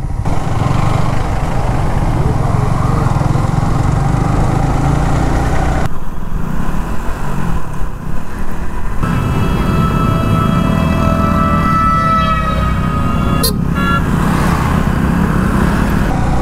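Motorbikes and cars crawl in a traffic jam on the road to Sajek, engines droning and idling close by in a dense continuous rumble, with a short high squeal near the end.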